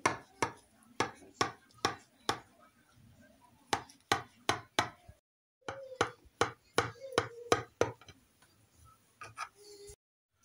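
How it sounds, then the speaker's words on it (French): A knife chops vegetables for bourak with a minced-meat filling, each firm rhythmic stroke thudding on a board, close and clear, in two runs separated by a short pause. "Maintenant, je viens couper."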